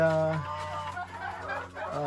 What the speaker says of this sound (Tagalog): yung mga manok natin pinapakain na natin